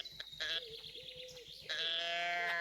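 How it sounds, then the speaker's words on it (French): Goat-like bleats used as a deer call in a night hunting video game, a harmonic wavering cry repeating over a steady game backdrop, loud and close. "Ça, c'est un bruit de chèvre, ça."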